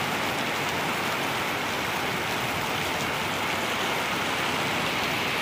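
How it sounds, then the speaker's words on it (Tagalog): Steady rain falls outdoors in the early evening, a dense, even hiss of drops on surfaces that holds at a constant level throughout with no voices. "Ulan."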